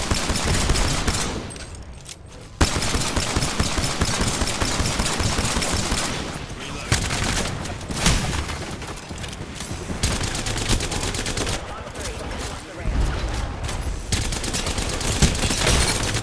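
Sustained gunfire and bursts from an Apex Legends firefight rattle almost continuously, loud and close, with brief lulls and occasional booms, while players call out over the shooting.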